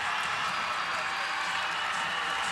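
A large arena crowd at a women's college gymnastics meet between Georgia and Alabama cheers and roars in a steady, dense wash of noise with no breaks.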